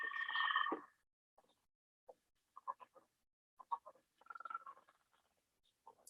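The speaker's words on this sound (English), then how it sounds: "This recording I made of leopard frogs is on a warm, drizzly night." Leopard frogs give low, snore-like croaks and short clicking bursts on a warm, drizzly night in Mid-Michigan, scattered and intermittent against near silence, with one louder call at the start.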